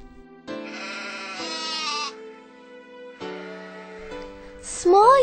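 A goat bleats in long wavering cries, two drawn-out calls separated by a pause, over a background of sustained musical tones, ending with a sharper higher sound.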